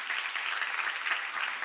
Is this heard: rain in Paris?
no